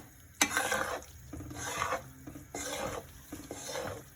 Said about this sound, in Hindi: तो इसको भूनते हुए हमें ध्यान रखना है कि भून हम बहुत अच्छे।